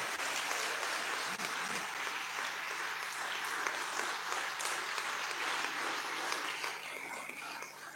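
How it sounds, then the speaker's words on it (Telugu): An audience claps for a priest being honoured at a church gathering, a steady, moderately distant wash of applause from many hands that holds evenly for several seconds before tapering slightly at the end. "చప్పట్లు కొడతాం."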